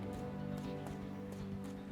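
Horse hooves clip-clop in the horse video game Champion Dreams, a steady, evenly spaced rhythm of soft thuds over a constant low hum from the game.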